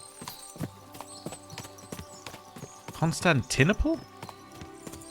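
Horse hooves clip-clop steadily in the medieval video game Kingdom Come: Deliverance II, then a horse whinnies loudly near the middle, while a voice speaks briefly over them.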